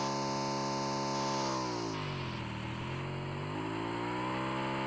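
A motorcycle engine in the mobile battle-royale game PUBG Mobile, a steady droning hum with pitch sweeping down and back up, as if it revs and eases off. It plays loud and continuous, with no talk over it.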